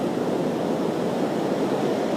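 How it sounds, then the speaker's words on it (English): Surf breaking on the south shore of Jamaica near Kingston during the Hurricane Matthew storm surge, a loud, continuous roar of waves mixed with wind noise, with no talk. "And you can see the surf has really picked up."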